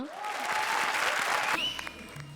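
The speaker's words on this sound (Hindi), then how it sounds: "जोरदार तालियां" Loud, steady clapping from a large audience fills the whole stretch, with a bright tone sweeping upward partway through.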